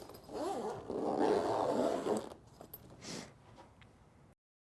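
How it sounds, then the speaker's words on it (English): An equipment case is zipped shut with long, close zipper pulls followed by a few shorter tugs and scrapes, then quiet. "Close the top and zip it up."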